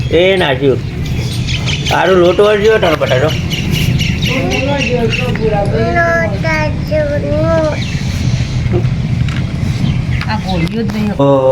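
A flock of birds being fed in a village squawks and chatters loudly and close, harsh calls repeating in bursts, with people talking over the commotion.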